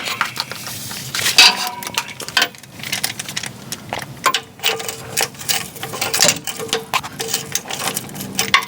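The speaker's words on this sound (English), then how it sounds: "Might have to get my wrench back up here." A wrench working a starter motor bolt on a GM truck with a Vortec 5.7L engine gives close, irregular metallic ticks, clicks and small clanks over a faint background hum.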